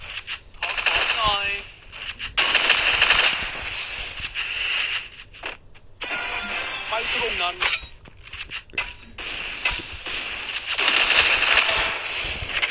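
Repeated bursts of M14 rifle fire in the video game Free Fire, sharp metallic shots clustered in rapid strings with brief pauses between them, fairly close and loud.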